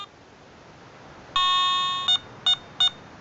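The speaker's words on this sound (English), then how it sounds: "And we'll get the beeps to indicate that it's got a quiet operating frequency and we're away." A Garrett ATX metal detector gives a ready signal after its frequency scan: one longer electronic tone followed by three short, evenly spaced beeps, clear and close over a quiet background.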